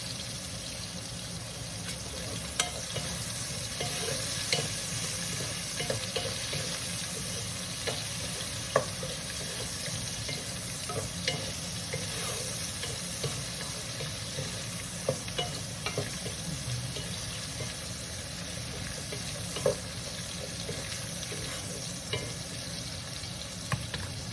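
Onion softening in a hot pan after fish sauce has been sautéed, for milkfish sinigang with miso: a continuous close sizzle with occasional crackles and light stirring, with no talk.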